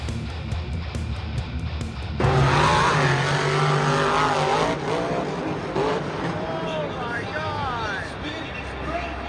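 Monster trucks racing at a Monster Jam event, loud roaring engines that surge and rev as trucks pass and accelerate, with tire skids and crowd-level noise, while a person talks over the action throughout.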